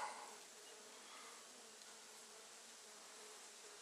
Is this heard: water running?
no